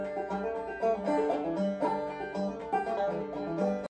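A clawhammer banjo picks out a bright, twangy country-style melody in a quick, rolling rhythm, played steadily alone at moderate loudness.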